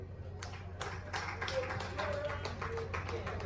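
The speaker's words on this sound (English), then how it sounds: "Let's clap for our governor." Audience at an Enugu State agriculture ministry event clapping for the governor, scattered sharp claps at an uneven rhythm over a low hum, with voices murmuring among them.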